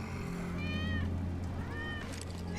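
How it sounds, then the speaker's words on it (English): A cat in the video game Final Fantasy VII Remake meows twice, clear rising-and-falling calls spaced about a second apart over a low steady game-music drone. "That's Wedge's cat."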